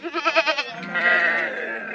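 A goat bleats close by with a quavering, pulsing cry, then gives a longer, steadier bleat.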